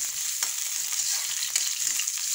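Ginger frying in a pan: a bright, steady sizzle of hot oil heard up close, with occasional light ticks and stirring touches throughout and no voices.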